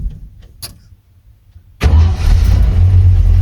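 A 1986 Ford F250 truck engine starts up after some quiet clicks, catching abruptly and settling into a loud, close, steady rumbling idle.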